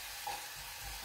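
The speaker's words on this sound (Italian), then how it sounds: "qui stanno friggendo i nostri carciofi" Artichokes fry in a pan in a kitchen with a steady, even sizzling hiss that is close and continuous, with no talking.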